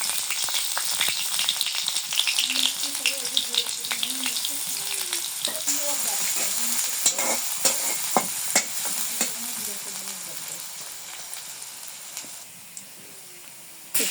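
Onion frying in hot oil in a home kitchen before greens go in: a continuous bright sizzle with repeated stirring scrapes and clinks, fairly close and steady throughout.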